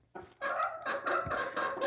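A gray silkie rooster and a black ayam cemani hen cluck in a few short, close bursts that follow one another in quick succession after a brief moment of quiet.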